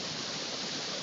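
Steady broadband rush of the Pachaiyar river flowing past a small artificial waterfall in a forested hill valley, continuous and fairly close, with no voices.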